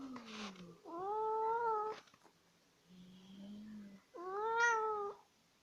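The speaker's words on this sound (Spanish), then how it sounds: "Miau." A house cat meows three times, with drawn-out, wavering calls separated by short pauses and a soft low murmur between them, heard close and alone indoors.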